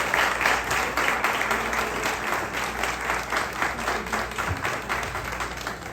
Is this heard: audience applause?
yes